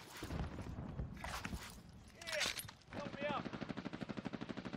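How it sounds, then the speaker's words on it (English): Gunfire in the video game Warzone, bursts of shots and a rapid automatic rattle toward the end, mixed with in-game sounds under players' talk. "They're getting shot in the back."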